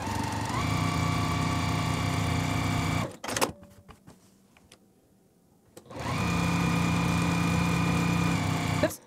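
Sewing machine stitching quarter-inch seams on a quilt block, a steady close mechanical whir that runs for about three seconds, stops for a few seconds of quiet handling, then runs again just as steadily.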